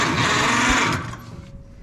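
A John Deere 440C dozer's 6-volt starter cranks the engine over in a fast churning whir for about a second, then cuts off and leaves quieter uneven mechanical noise.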